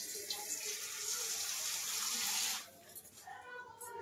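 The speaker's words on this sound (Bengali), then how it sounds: "এই আর একটু জল দিয়ে দিলাম।" Water pours into a pressure cooker already full of meat and potatoes, a loud steady gushing stream for about two and a half seconds that then stops, leaving faint handling noises.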